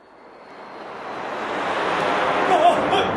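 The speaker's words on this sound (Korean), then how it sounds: "비행기예요!" An airplane flies overhead as a broad, roaring rush that swells steadily from quiet to loud and then holds near its peak.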